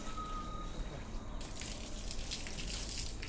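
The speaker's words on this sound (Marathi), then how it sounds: "तुळशीला पाणी घालताय" Water poured onto a tulsi plant gives a soft, steady splashing gush that starts partway through and continues to the end, faint and close, with no voices.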